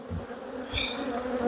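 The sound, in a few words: honeybees buzzing during hive inspection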